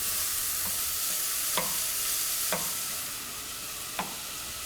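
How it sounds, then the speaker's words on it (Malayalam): Green mango pieces with salt sautéing in a pan, a steady close hiss of frying broken by a few sharp spoon-against-pan taps, with no voices. "പച്ചമാങ്ങയും ആവശ്യത്തിന് ഉപ്പും ഇട്ട് വഴറ്റുക"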